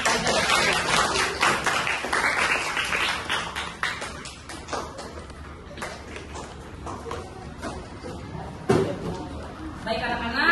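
Classroom applause as students clap after a pair finishes their presentation, a dense spread of hand claps fading and swelling over ten seconds with a teacher's voice speaking over it.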